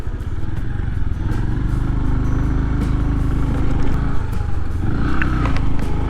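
A motorcycle rides through a traffic jam in Ladakh, its engine putting out a close, loud, throbbing note with clattering mechanical texture amid surrounding vehicle noise.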